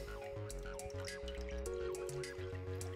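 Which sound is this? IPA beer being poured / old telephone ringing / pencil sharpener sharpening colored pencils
IPA beer being poured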